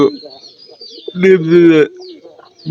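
Domestic pigeons coo close by in a short burst of throaty, rolling calls, with a human voice mixed in among them.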